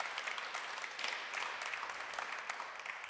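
An audience claps after a nursing talk in a lecture hall, a soft, steady wash of applause heard from a distance with no voices over it.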